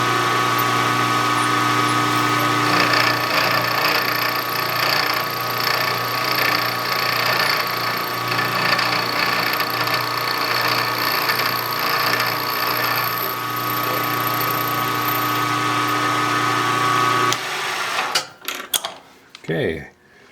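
A milling machine cuts the last face of a small metal engine part, grinding and chattering loudly and steadily, then stops abruptly, leaving clattering handling noises at the end.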